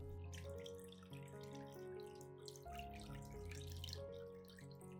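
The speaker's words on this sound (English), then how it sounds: "I will filter out all the residue, keeping only the nutrient-rich clear liquid." Liquid orchid fertilizer solution poured through a filter to strip out residue, a steady close trickle and splash with shifting pitch like water filling a container, quiet and uninterrupted.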